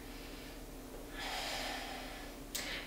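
Someone holding a yoga pose breathes close and quiet: a soft drawn breath swelling, then a short sharp puff at the end, with no talking.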